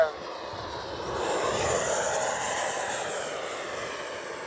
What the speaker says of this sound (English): Make a nice low pass this time down the runway.